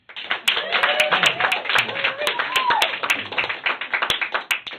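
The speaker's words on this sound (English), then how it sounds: "I demand that applause" Comedy-club audience clapping during an improv show, a steady patter of hands that holds for several seconds with sharp individual claps standing out, and voices talking through it.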